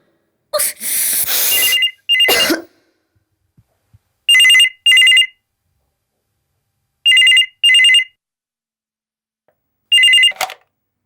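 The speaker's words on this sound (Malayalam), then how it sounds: "ഫോൺ അടിക്കുന്നു." A telephone rings in four short double bursts spaced a few seconds apart, loud and close, after a brief rustle and thump at the start.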